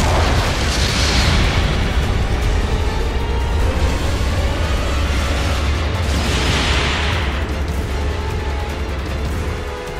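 A mobile suit blowing up in Gundam Battle Operation 2, a loud continuous rumbling explosion roar with bursts of blast noise swelling over ten seconds.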